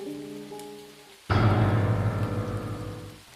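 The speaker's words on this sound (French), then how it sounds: "le bruit de la pluie qui tombait sur le toit et sur l'herbe du" Rain falls on a house roof and garden grass, starting abruptly after a quiet stretch with a faint sustained tone, then settling into a dense, steady close-up patter that fades slightly toward the end.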